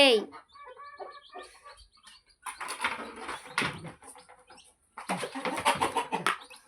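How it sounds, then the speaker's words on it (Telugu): Chickens, including a two-year-old rooster, cluck and squawk nearby in several bursts, with brief rustling; a person's voice is faintly mixed in among the calls. "ఇగో మా పుంజు 2 years ఈ రాయుడికి."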